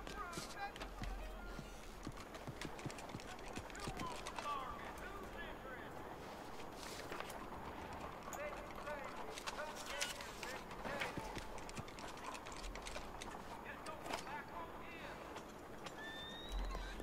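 Horse hooves in the video game Red Dead Redemption 2 clip-clop softly and steadily across the ground, faint and low under continuous talk, with a few bird-like chirps in the background.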